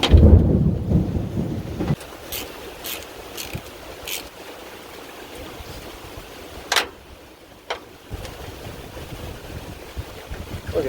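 Heavy rain and a thunderstorm pour down outdoors near an old C10 pickup, with a deep rumble at the start giving way to steady hissing rain and occasional knocks.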